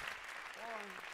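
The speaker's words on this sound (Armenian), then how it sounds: "Եկեք մի հատ մեր հագուստի հետ կապված բոլոր աշխատողներին ծափահարենք բարձր" A television studio audience at The Masked Singer Armenia applauds in a dense, steady wash, with a brief voice rising over it.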